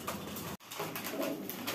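Fancy pigeons at a farm coo softly and continuously, a faint murmuring bird sound with a brief dropout partway through.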